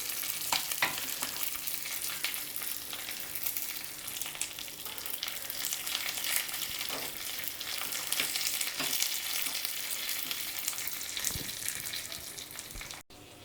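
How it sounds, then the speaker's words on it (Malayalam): Dried red chilies and curry leaves fry in hot oil for a tempering, a dense, continuous close-up sizzle and crackle that holds steady for several seconds before cutting off abruptly, with no talking. "അപ്പോൾ നമ്മുടെ ഈ മുളകൊക്കെ നന്നായിട്ട് മൂത്ത് വന്നിട്ടുണ്ട്."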